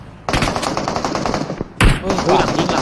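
Automatic gunfire in the PUBG Mobile battle royale game, loud close bursts of rapid machine-gun shots, a long rattling burst followed by a brief pause and another burst.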